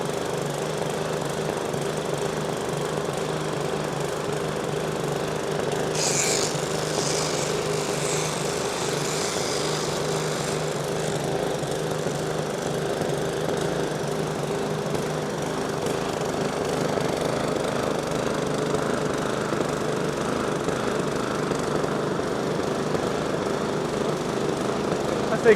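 A Troy-Bilt small engine runs after a pull start with a steady, buzzing putter at moderate distance, a brief rattle near the start and a slightly uneven rhythm as it settles.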